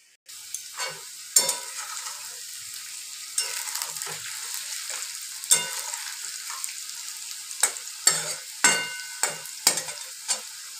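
Ground ginger, garlic, onion and green chilli paste frying in a pan for an egg, potato and soya chunk curry, with sizzling and repeated scraping stirs at an uneven rhythm, close and clear.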